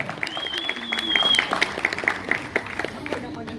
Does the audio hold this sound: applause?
yes